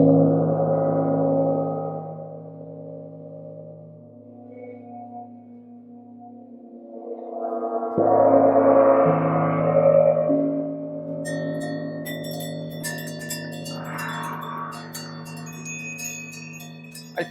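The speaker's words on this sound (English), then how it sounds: "But now we're getting into these two chow gongs, and the way they interact." Two chau gongs played together ring with long shimmering metallic tones that swell, fade and overlap, a second loud strike blooming midway, then bright high shimmer building as the tones interact.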